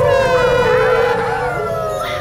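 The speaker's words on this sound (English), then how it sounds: "My megaphone is ready, the mic is hot, and the volume's cranked up. It's time to howl." A cartoon dog howls through a megaphone, several loud overlapping howls with rising and falling pitch and a strong amplified ring, close and continuous.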